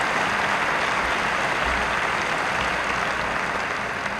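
Sustained applause from a crowd at an Indianapolis 500 victory dinner, a dense, even wash of clapping that carries on steadily for several seconds with no talk over it.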